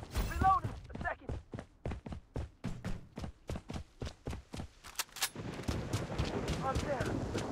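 Gunfire in the video game Blood Strike: a rapid run of evenly spaced shots cracks for several seconds, then a louder burst and a dense wash of firing, with game voice lines underneath.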